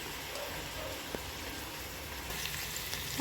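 Chopped onions frying in a pan for a Telugu-style peethalu (crab) curry, a steady soft sizzle with faint stirring scrapes and one sharp clink, no talk.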